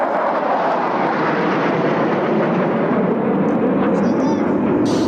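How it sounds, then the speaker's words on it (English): Israeli Air Force planes, fighter jets among them, fly over an Independence Day air show, their roar loud, broad and unbroken for the whole stretch. "Air Force planes stage an air show displaying their ability to protect the state of Israel from enemy invasion"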